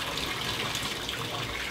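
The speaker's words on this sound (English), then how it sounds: "I'm gonna turn on the water, the faucet" A bathroom faucet runs water into a sink or tub while a cat is bathed, a steady close hissing splash with no pauses or voices.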